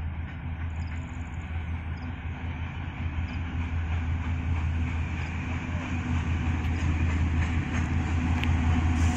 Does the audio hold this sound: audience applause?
no